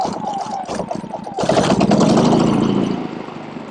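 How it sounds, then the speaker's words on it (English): Predator 3500 portable generator being crank started without its battery, sputtering as it turns over then catching at about 1.5 seconds into a loud, steady running drone that carries on to the end. "Since I don't have the battery hooked up to it, I have to crank start it,"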